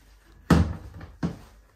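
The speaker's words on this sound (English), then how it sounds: "Then just pop your detergent and conditioner into here, and then close the door" A washing machine door is shut with a single solid thump, followed by a softer second knock, in a quiet room of a holiday house.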